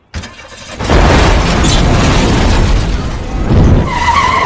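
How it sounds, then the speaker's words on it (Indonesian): A sudden loud burst erupts into a sustained roaring rumble as a sabotaged car explodes in a film, with a second surge near the end. "mobilnya pun meledak yang sepertinya sudah disabotase oleh si pelaku"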